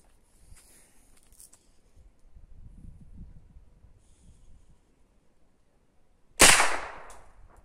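Quiet low rumble and faint handling noises, then a single sharp, loud crack of a modified 5.5mm air rifle firing a pointed pellet near the end, ringing briefly.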